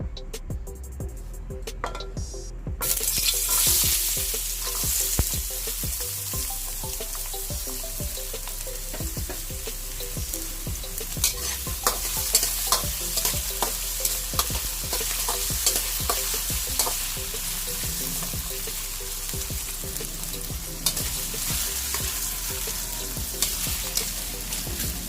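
Potato pieces fry in hot oil in a pan, a steady crackling sizzle broken by frequent clatters of stirring and scraping, close and fairly loud, with no talk.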